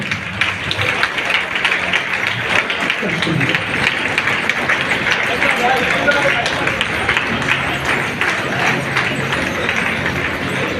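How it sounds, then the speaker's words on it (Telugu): A crowd at a Dalit Christian gathering in Karimnagar keeps up dense, steady clapping as a speaker comes to the stage, with a voice talking over the applause throughout. "చప్పట్లు కొడుతూనే ఉండాలి, ఎవరు ఆపకండి."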